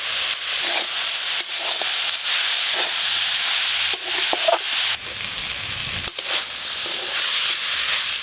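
Potato and banana flower frying with salt, turmeric, ginger-cumin paste and chili powder in a pan, giving a loud, continuous sizzle and hiss with occasional scraping stirs and steam bursts.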